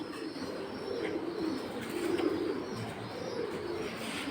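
Pigeons coo steadily at a busy pigeon market selling large Bengali breeds such as silver pankhi and zira-neck birds, soft overlapping calls against a constant low crowd murmur.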